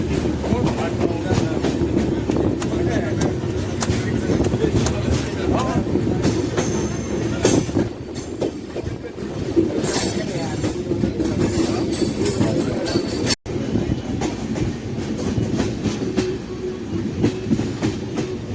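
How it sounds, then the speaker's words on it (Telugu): An Ahmedabad–Secunderabad passenger train approaches Akola Junction, wheels rumbling and clacking steadily with brief squeals and a sharp break near the end, as people talk nearby. "మన ట్రైన్ ప్లాట్ఫామ్ నెంబర్ 5కి వచ్చినుండే"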